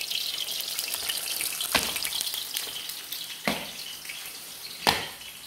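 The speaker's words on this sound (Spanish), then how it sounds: "Aquí todo lo voy dorando por partes." Longaniza sausages frying and browning in a pan, giving a steady close sizzle with sharp crackles and pops at irregular moments, no talking.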